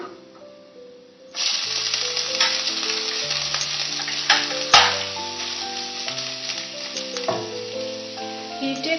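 Ginger and garlic frying in a pan for coconut rice: a loud, steady sizzle starts abruptly after a quiet opening and runs continuously to the end, with occasional clinks of stirring and no talk.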